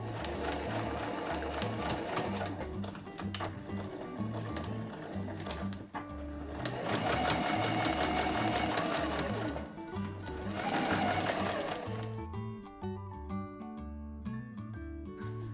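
A sewing machine stitches quilted nubi fabric for a tablet case with a steady, close mechanical whirring hum. The stitching slows and stops briefly near the end.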